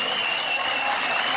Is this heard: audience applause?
yes